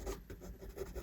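Pencil on paper drawing lips, a quiet, close scratchy rubbing in short repeated strokes, soft and steady.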